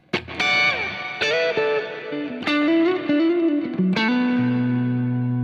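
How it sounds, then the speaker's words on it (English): Heavily effected notes are plucked on a Suhr electric guitar, each one swelling into a long, washy reverb tail that keeps ringing as the next note sounds. "But when I stop, there's a ton of reverb."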